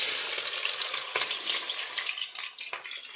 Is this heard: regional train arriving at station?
no